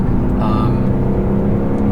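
Engine of a 2018 Honda Accord Sport heard from inside as it accelerates, a loud, steady drone with a brief rising tone, continuous throughout.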